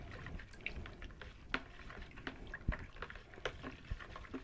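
Apricot country wine must being stirred with added water in a one-gallon batch, giving faint irregular sloshes, drips and clinks at close range, with no talking.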